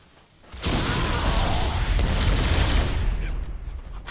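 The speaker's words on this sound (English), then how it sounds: "Explosions everywhere." Explosions in the Halo: The Master Chief Collection video game, a loud sustained roar of blasts and bursts filling several seconds after a brief quiet start, with no talk over it.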